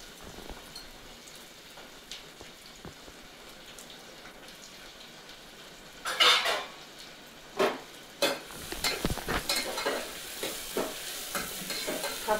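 Chopped onion is dropped into hot oil with cinnamon and black pepper, then sizzles faintly while a spoon stirs and scrapes the pan in bursts, louder toward the end, with no talking.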